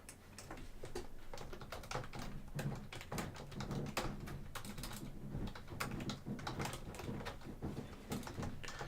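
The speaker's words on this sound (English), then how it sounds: "Typing is hard." Fast, uneven clatter of keys on a computer keyboard runs continuously, close and fairly soft, as someone types during a Factorio 2.0 Space Age gameplay stream.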